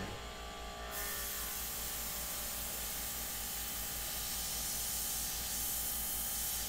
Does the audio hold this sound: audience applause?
no